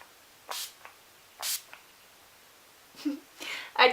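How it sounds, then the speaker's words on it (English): A setting spray bottle shaken and sprayed onto a face: two short hissing spritzes, then a soft rattle and two more hissy bursts, close and fairly quiet over a silent background. "So just give it a shake and a spray."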